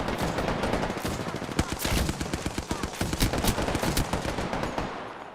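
Rapid bursts of Wingman pistol fire in the shooter game Apex Legends, loud sharp cracks in quick irregular succession over a dense background of battle noise.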